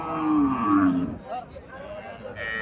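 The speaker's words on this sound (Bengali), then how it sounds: "এখানে একটা গাভী দেখা যাচ্ছে।" A cow at a cattle market in Cumilla, Bangladesh, gives a loud, close moo lasting about a second, followed by quieter background voices from the market.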